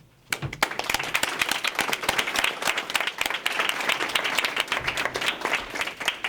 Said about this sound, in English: join me in applauding all the candidates running for mayor